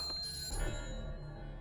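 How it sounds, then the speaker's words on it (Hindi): A telephone bell rings faintly in a quiet room, a thin repeated ring with no voices. "सर, घंटी बज रही है, कोई फोन नहीं उठा रहा है।"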